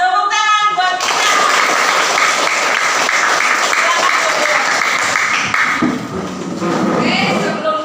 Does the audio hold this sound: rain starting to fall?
no